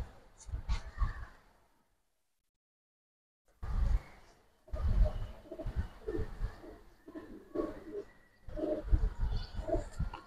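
Silver beji giribaz pigeons coo close by in soft, throaty bursts with a short silent gap between calls, while someone speaks softly in the background.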